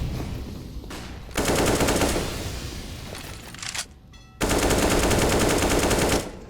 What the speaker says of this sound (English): Wallbang attempts coming out as well from Koiti.